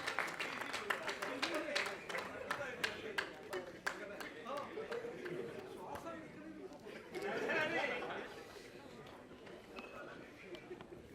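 Clapping from the audience at a film press meet rattles out in sharp, scattered bursts over the first several seconds, mixed with room chatter and voices, then thins as the crowd noise settles.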